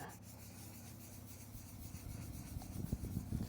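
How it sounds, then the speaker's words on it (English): Restoration compound worked into an oxidized car headlight by hand to remove the dead factory coating: soft, steady rubbing and scrubbing close up, quiet and continuous, becoming choppier toward the end, with no talking. "start to work that into the headlight."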